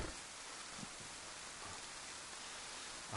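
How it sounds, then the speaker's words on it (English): Steady rain falls in the DayZ game world, a soft continuous hiss of drops across the ground with no voices, quiet and even throughout. "soaking rain."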